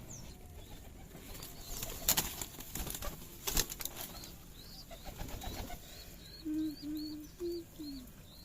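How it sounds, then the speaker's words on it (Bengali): Racer and giribaj pigeons in a coop, heard close with pecking and scuffling at grain, wings flapping in bursts, then a series of soft, low repeated coos near the end. "খাইতে দেখি কবুতরকে"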